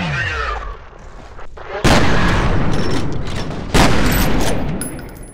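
Two sharp, loud pistol shots from the video game F.E.A.R., each a sudden broadband blast with a rumbling tail, spaced about two seconds apart over a busy background of in-game noise.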